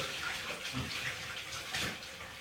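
Water runs steadily into a tub while Paşa the dog is washed, a soft, continuous splashing flow with slight swells, fairly quiet and without talk.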